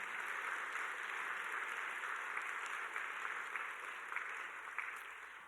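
Distant church congregation applause at a spring revival service, a soft, even wash of clapping that holds steady and fades slightly toward the end.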